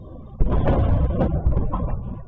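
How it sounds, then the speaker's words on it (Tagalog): Loud, booming blast from Iranian missiles striking Israel, a sudden heavy burst followed by sustained rumbling roar with a second swell partway through, no voices. "Dumaguntong ang malakas na pagsabog sa Israel nang magpaulan ng missile ang Iran."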